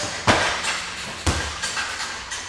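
Strikes land on a punching bag during a Wing Chun kicking drill, with two sharp thuds followed by several lighter hits spaced irregularly, close and fairly loud.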